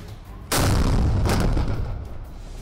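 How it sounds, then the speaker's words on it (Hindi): Sarang artillery gun firing a shell at a test range in Jabalpur, one powerful booming blast that rolls and echoes for about two seconds, loud and close with heavy low rumble. "एक एक करके जैसे ही तोप के गोले छूटे"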